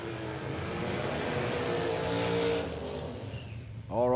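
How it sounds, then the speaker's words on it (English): A seven-second Honda drag car idles at Warwick Dragway in Australia, a steady loud engine drone with harmonic bands running throughout, a voice talking over it, and a brief rising rev or tone near the end. "That 7-second Honda just idling behind us here"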